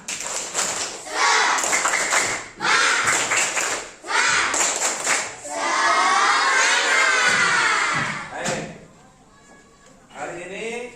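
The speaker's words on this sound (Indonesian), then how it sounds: "Tepuk semangat." Schoolchildren in a classroom doing a rhythmic spirit clap chant, with loud bursts of group clapping and shouted voices in bouts, fading to quieter chatter near the end.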